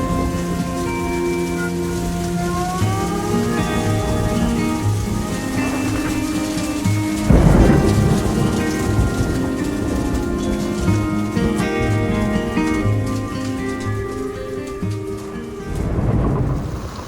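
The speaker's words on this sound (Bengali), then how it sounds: "আমাদের মাঝে পাহাড়ি বৃষ্টি" Heavy hill rain pours steadily in Bandarban, Bangladesh, with thunder rumbling through it, a loud crack-like burst near the middle and another swell at the end, while birds and insects call faintly underneath.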